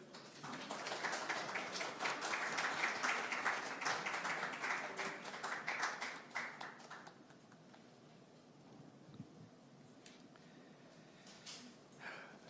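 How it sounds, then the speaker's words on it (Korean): Audience applause welcoming a candidate at a Korean People Power Party presidential primary vision presentation event, loud for the first several seconds and then thinning to sparse scattered claps. "다음은 홍준표 후보께서 나와주시겠습니다. 박수로 환영해 주십시오."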